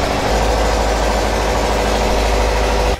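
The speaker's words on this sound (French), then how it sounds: "avant que le moteur de la barge ne soit mis en marche" Barge engine idling at a river crossing point before departure, a loud steady low rumble with constant vibration throughout, ending abruptly near the end.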